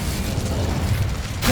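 A fiery Incendio spell fires off in Hogwarts Legacy, a loud, sustained crackling burst with deep rumbling body that holds steady for over a second before a brighter flare at the end.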